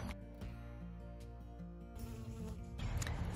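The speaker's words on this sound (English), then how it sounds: "They are going in and out of the hive" Honey bees from a caught swarm buzz in and out of a hive, a dense, steady drone of many wings close by that thickens and grows louder toward the end.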